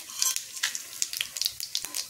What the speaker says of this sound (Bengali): তো এগুলোকে পুরো ভালো করে আমি সুন্দর করে ভেজে নেব।